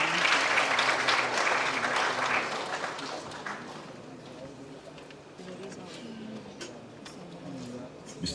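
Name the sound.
audience applause at a launch event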